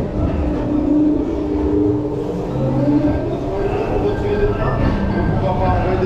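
Amusement park ride train labouring on a rain-wet track at Parc Astérix during a stormy evening, wheels slipping, with a steady rumbling drone and faint squealing tones, heard continuously under people talking.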